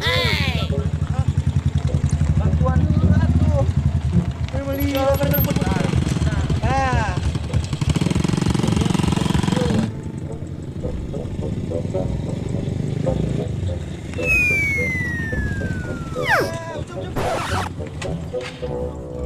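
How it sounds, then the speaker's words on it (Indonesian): A motorcycle engine turns over and runs at idle with a rough, throbbing mid-pitched drone that revs and drops in stages, while people talk nearby. "Ya tingalikeun ngairupan motor mah kieu ya."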